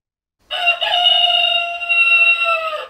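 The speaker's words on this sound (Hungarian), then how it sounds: "A vendégek érkezését is kakas kukorékolás jelzi Labádi Sándor Kakasszéki házánál." A rooster crow serves as the doorbell at a house in Kakasszék, Hungary, home to a collector of some 400 roosters: one loud, sustained cock-a-doodle-doo rising after a brief silence and holding steady for over two seconds, heard alone and close.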